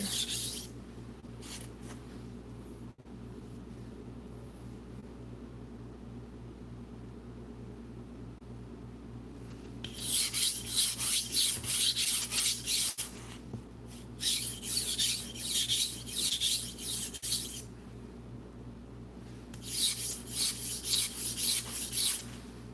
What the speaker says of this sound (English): This one is proving to be a lot harder to sharpen